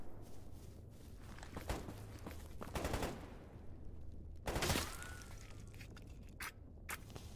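Enemy gunfire aimed at the player in a first-person shooter game, scattered distant shots and short bursts cracking over a low background hum, mixed with shuffling footsteps and movement noises.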